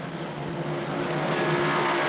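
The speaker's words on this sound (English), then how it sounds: "heading for the first turn with engines roaring like cannon fire" NASCAR Winston Cup stock car engines roar together at the start of the 1978 Southern 500, a dense, continuous rumble that swells slightly as the pack heads into the first turn.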